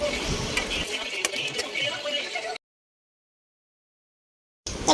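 Chicken with turmeric and salt is stirred in a pan, giving close scraping and light sizzling with a few sharp utensil clicks, then a sudden gap of silence before the stirring resumes briefly.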